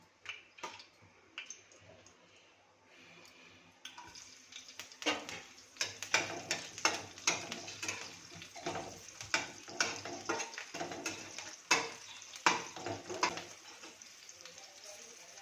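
Cumin, curry leaves and moong dal sizzle in hot oil for a tempering with onions, green chillies and raw mango pieces, steady frying hiss broken by repeated close spoon scrapes and pan clinks.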